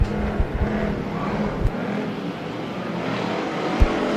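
Race cars roaring around the oval at Bakersfield Speedway, a continuous engine drone from cars running side by side with a few sharp bumps, heard from a distance with no voices.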